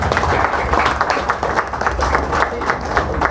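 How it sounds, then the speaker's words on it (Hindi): Steady applause from a crowd at a press conference in Bilaspur honouring the transgender community, dense continuous clapping filling the room at close range without a break. "तालियां बजती रही।"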